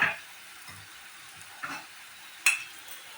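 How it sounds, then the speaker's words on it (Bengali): Potato pieces frying lightly in white oil give a soft, steady sizzle with a few stirring clinks and scrapes, quiet and close, with no voices. "বন্ধুরা, আলুটা এইভাবে, এর থেকে বেশি লাল করে ফ্রাই হবে না, হালকা করে ফ্রাই করব।"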